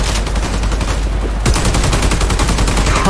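Rapid automatic gunfire in the Warface shooter game, loud and close, firing in a fast continuous rhythm with a short pause before another sustained burst.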